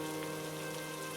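Heavy rain pouring down steadily in a cartoon village scene during a flood, a dense, constant hiss of drops on surfaces with no voices, loud and even throughout.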